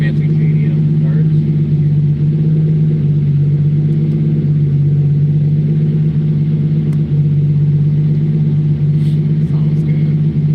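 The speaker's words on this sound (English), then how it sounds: "That exhaust is awesome." A video game car engine idles with a deep, steady exhaust rumble, loud and close, holding a constant droning tone throughout.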